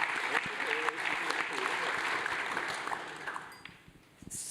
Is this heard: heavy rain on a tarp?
no